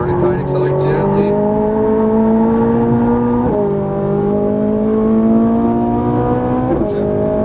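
A Ferrari 458 Italia engine rises loudly and closely through the revs while it accelerates on a race track, with two brief upshift dips in the climbing whine, and a driving instructor talks over it.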